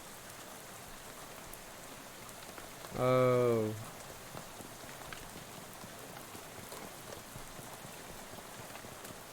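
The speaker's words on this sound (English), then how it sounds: "I'll be right here leaving in the pouring rain." Steady pouring rain patters throughout a scene in the video game Shadows over Loathing, with a short vocal exclamation briefly rising over it near the start.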